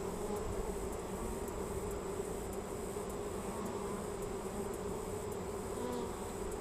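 Honeybees swarming around an open hive during a late-August routine inspection, a continuous close buzzing drone that stays steady throughout with no voices.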